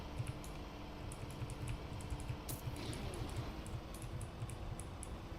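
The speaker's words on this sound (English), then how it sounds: "You hear his keyboard." Computer keyboard typing during a Trackmania racing stream, a steady run of light, rapid taps at moderate distance over a constant low background hum.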